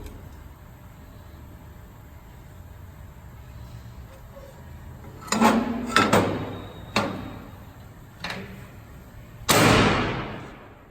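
A metal Detroit Wrecker trap door on a truck bed is popped up and removed, giving several sharp clanks and bangs spaced a second or so apart, ending in a louder metallic crash with rattling chain over quiet background.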